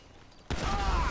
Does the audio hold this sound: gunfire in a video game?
yes